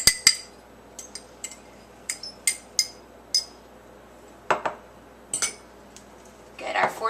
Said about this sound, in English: All we have to do is mix all of our ingredients together.